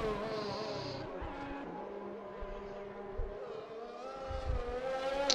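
An Aston Martin race car on a flying lap at Suzuka in a racing video game: a steady, high-pitched engine whine that rises and falls with gear changes, moderately loud and continuous.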